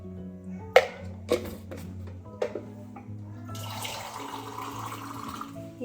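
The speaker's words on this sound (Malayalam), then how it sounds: "ഈ ചിക്കൻ നമുക്ക് കുറച്ച് വെള്ളം ഒഴിച്ച് വേവിക്കാൻ വേണ്ടി വെക്കാം" Water poured into a pot of chicken for cooking: a few sharp clinks and knocks, then a sustained gushing pour with splashing over the last seconds, over a faint hum, no talk.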